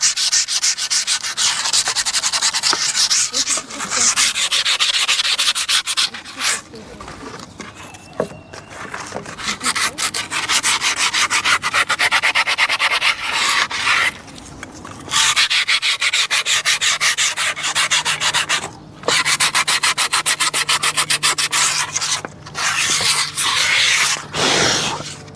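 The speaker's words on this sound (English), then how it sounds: "I'm gonna sand this area down." A skateboard deck with fresh grip tape being sanded by hand, loud close rhythmic rasping strokes running almost continuously with a few short pauses between passes.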